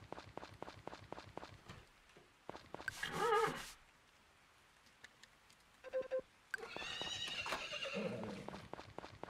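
A horse in the Friends of Mineral Town farming video game neighs twice in bright whinnying bursts between rapid synthetic clip-clop steps, with a chiming jingle in between, all game audio with no talking.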